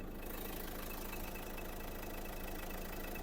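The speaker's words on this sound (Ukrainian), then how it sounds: "як працює даний двигунчик" A 2010 Renault Grand Scenic III 1.9 dCi diesel engine idles steadily up close, a continuous low rumble with an even, chugging texture and no voices.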